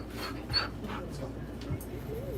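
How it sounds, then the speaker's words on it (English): A dog outdoors makes soft panting and whimpering sounds, a few brief close yelps over a low steady room hum, with no talking. "I gotta let my dog inside."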